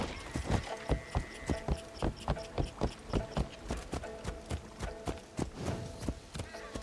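A horse gallops in a video game, hooves pounding in a clear, even rhythm of close, loud beats, with a brief whinny-like tone partway through.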